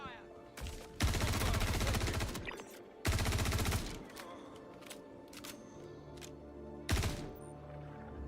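Bursts of suppressing gunfire in the Star Citizen game, two long loud automatic volleys with a later short burst, under a voice talking.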